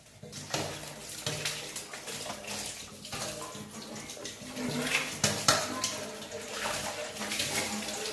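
Running water splashes over dishes being scrubbed with coconut fibre, which clink and scrape now and then, a continuous washing-up sound up close.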